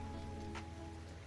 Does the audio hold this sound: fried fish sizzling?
no